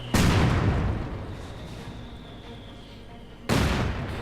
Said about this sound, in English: Definitely rare you get that kind of concerto. A mortar concerto, if you will.